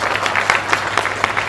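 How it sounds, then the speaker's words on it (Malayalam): Audience clapping at a Kerala press meet for the film Indian 2, a brief burst of scattered, moderately loud applause over a low background hum. "ഇപ്പോൾ ഇഷ്ടപ്പെട്ടാൽ കൈയടിച്ചേക്കണേ"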